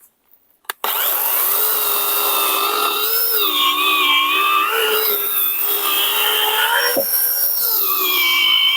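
A ProCraft cordless battery-powered saw starts with a click and runs at a steady high-pitched whine, loud and close, with slight pitch wavers and a brief dip midway as the motor keeps going.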